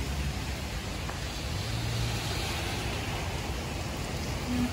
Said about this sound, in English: Yeah, here comes more of that rain.